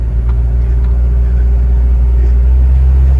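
A Toyota BJ40 climbs a hill in Pakistan, its engine producing a loud, steady low rumble and drone close by, with no talking over it.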